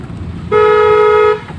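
A car horn gives a single loud, steady honk lasting under a second, with light background noise before and after.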